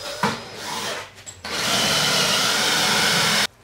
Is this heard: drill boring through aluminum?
yes